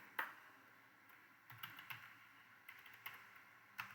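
Computer keyboard typing in short irregular bursts of quiet clicks and taps, close and fairly faint, with no talking.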